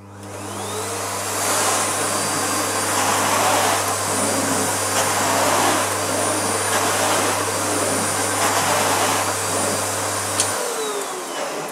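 A Miele Complete C2 Cat & Dog cylinder vacuum cleaner runs steadily on carpet near maximum power, a loud continuous motor whine and airflow rush that holds for about ten seconds before cutting off abruptly.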